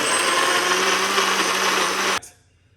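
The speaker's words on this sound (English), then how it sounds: "Let's blend this, guys." A blender whirring loud and steady while blending apple, ginger and lemon juice, then cutting off abruptly near the end, leaving brief quiet.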